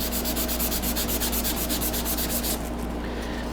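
An old sanding disc scrubs across a wooden cabin sign in steady, rhythmic rasping strokes that stop near the end, leaving a low electrical hum alone.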